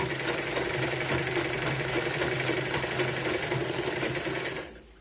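Sewing machine running steadily as it stitches fabric, a continuous close mechanical whir with rapid needle rhythm that stops abruptly near the end.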